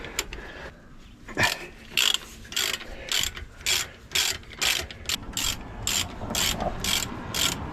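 Ratchet wrench clicks in repeated bursts, close and loud, as a 13/16 socket cracks loose the brake caliper bolts on a Chevy truck's rear brakes in a driveway.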